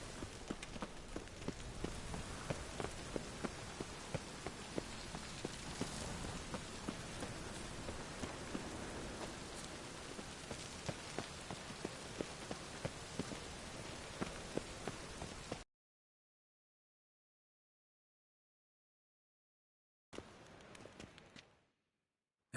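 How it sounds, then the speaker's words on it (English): Rain falling in a PS4 video game, a steady dense hiss of drops on surfaces that stops abruptly partway through, then returns briefly for a short burst near the end. "I like rain. Keeps the rogues indoors."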